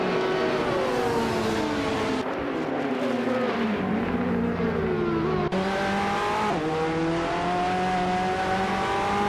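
A 2017 Mazda RT24P prototype race car in a racing video game, its engine droning and revving steadily through gear changes, with pitch rising and dropping as it accelerates, sustained and loud throughout.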